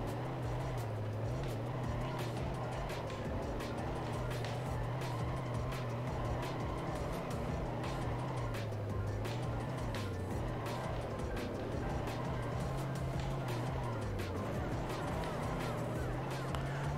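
Cars drifting in a race in the video game Mini Racing World give a continuous, droning engine whine that rises and falls as they slide through corners, steady and moderately loud with faint clicks over it.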